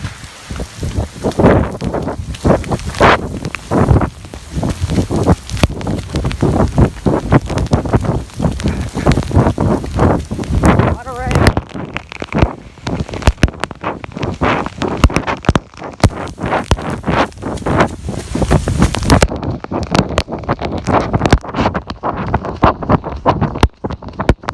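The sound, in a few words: heavy winds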